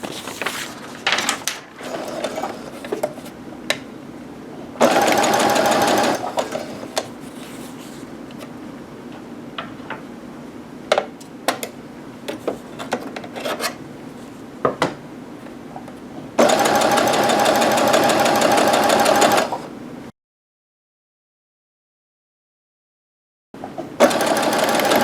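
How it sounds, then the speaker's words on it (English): A sewing machine stitching Christmas quilt pieces together runs in several steady, close bursts, the rapid mechanical whir stopping and starting with small clicks and handling noises between runs and a brief silence near the end. "So I'm going to go ahead and sew these together real quick."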